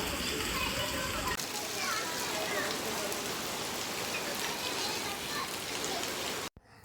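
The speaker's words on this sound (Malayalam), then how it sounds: "മഴയൊക്കെ പെയ്തിന്, നല്ല മഴേന്." Heavy rain pours at a resort swimming pool surrounded by trees, a dense continuous hiss with scattered splashes, while children's voices and chatter carry faintly through it.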